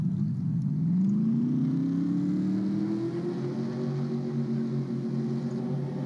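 Race car engines fire up and rev together at the NRA 500, a loud, steady multi-engine roar whose pitch climbs and holds as the field idles, sustained throughout with no talk.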